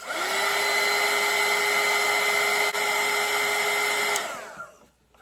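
A hair dryer runs steadily at close range over a wet watercolor painting for about four seconds, a constant whirring hum, then switches off and winds down into near silence.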